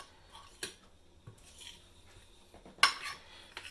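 Utensil working gravy into haggis in a dish, with soft scrapes and a few sharp clinks against the dish, one louder near the end; quiet and close, with no one speaking.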